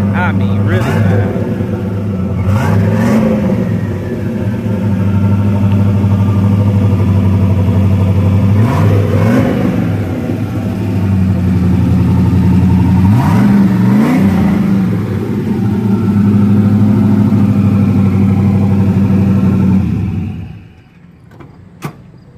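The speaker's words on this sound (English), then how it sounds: "This car is really, really loud, man. I mean, really loud." A loud Buick Regal G-body car engine on rims rumbles and revs repeatedly for about twenty seconds, deep and close, with voices talking over it before it suddenly cuts off.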